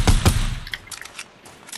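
Gunfire in the Fortnite video game, with two sharp, loud shots close together at the start followed by quieter scattered distant shots and clicks trailing off.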